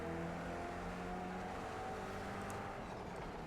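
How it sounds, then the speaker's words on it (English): Sesto Elemento race cars roar around a track in Project CARS 3, a dense, continuous engine drone that stays loud and steady throughout, with no voices. "Race cars racing with Sesto Elemento."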